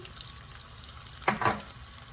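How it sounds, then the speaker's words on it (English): Scallions (green onions) hit a hot wok during a snow pea and mushroom stir-fry, giving one brief, sharp sizzle burst over a quiet kitchen background before settling back down. "we drop the scallion, that is green onion"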